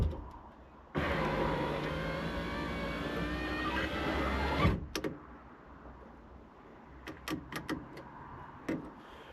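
The passenger electric window motor of a 1990 Toyota Space Cruiser whirs steadily for nearly four seconds, then stops with a clunk, followed by a few sharp clicks and knocks.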